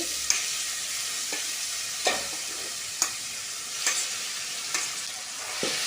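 A tempering fries in a pan under a steady sizzle, and a spoon taps and scrapes through it every second or so in close, sharp strokes. No voices are heard.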